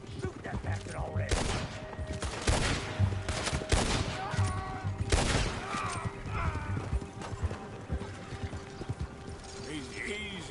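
Video game gunfire in a crowded battle, scattered bursts of shots and clattering mechanical noise under overlapping voices, fairly distant and busy rather than punchy.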